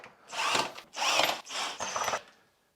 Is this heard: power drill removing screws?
yes